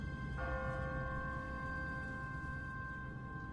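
An automatic church bell on a timer rings in The Walking Dead: Season 1 video game's city of Savannah, a single resonant strike that hums and sustains over a low ambient rumble.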